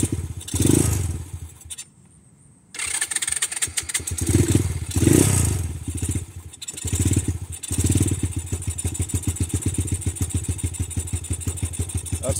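Honda Grom motorcycle fitted with a new Nibbi carburetor, its engine cranking on the electric starter, firing up and revving loudly with a clattery, uneven idle before settling into a steady rapid putter close by.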